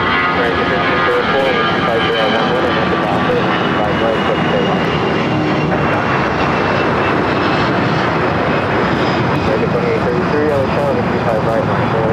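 A Swiss Boeing 777-300ER arriving from Zurich roars loudly on approach at LAX, a broad continuous engine rumble and whine filling the whole stretch, close and sustained without letup.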